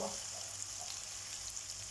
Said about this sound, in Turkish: Ve diğerlerini de ekleyip kızartıyorum.